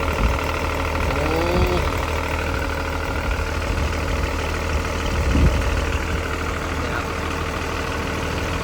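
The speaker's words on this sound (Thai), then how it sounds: "เครื่องอีสุหกสูบครับเนี่ย" Isuzu six-cylinder diesel running on a Hitachi EX200-2 excavator, a steady low idling rumble throughout with a faint whine and occasional clanks, no talk over it.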